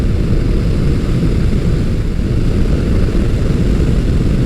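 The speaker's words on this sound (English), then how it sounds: "You can hear it, but it's relatively subdued in cruising like I am right now." A Motus MSTR motorcycle with a 1650cc V-4 engine cruises along, its subdued exhaust forming a steady drone blended with a continuous rush of wind, with no talking.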